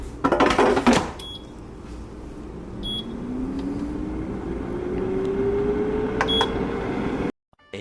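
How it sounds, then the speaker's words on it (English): An air fryer runs at 360 degrees while baking apple pies, a steady fan whir with a low hum whose pitch slowly climbs, set off by a few clicks and beeps at the start and near the end, then cutting out abruptly. "I have my air fryer set to 360 degrees and we're gonna bake for about 10 minutes"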